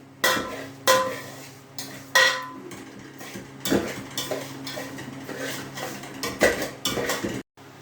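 Stirring a melting mixture in a metal pot: a close utensil clanks and scrapes against the pot in an uneven run of strokes, some loud knocks among softer scraping, then a sudden stop.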